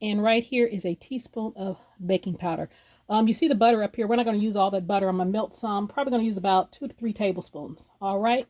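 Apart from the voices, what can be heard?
No everyday noise stands out behind the speech.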